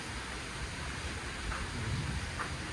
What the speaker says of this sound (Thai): ฝนก็มานะทุกคน มืดเลยครับดู มากับฝนจริงๆ